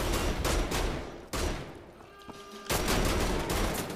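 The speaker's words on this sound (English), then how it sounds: "Use my shotgun." Heavy gunfire blasts in rapid bursts in the shooter game Wolfenstein: The Old Blood, a loud shotgun firing close up with a short lull and ringing metallic tones in the middle.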